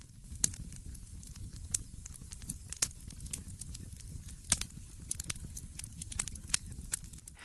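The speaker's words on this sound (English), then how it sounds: "You listen to the gentle crackle from the wood stove." A wood stove fire crackles inside a desert glamping tent, with sharp irregular pops and snaps scattered over a soft low rumble, close and fairly quiet, without any talking.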